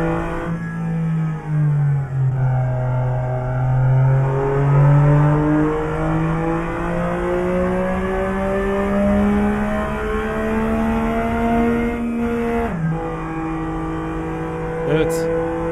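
BMW car engine in Euro Truck Simulator 2 pulling hard in fourth gear, a loud steady drone with rising pitch as it accelerates, a brief dip near the end as revs drop and climb again, with a voice talking over it.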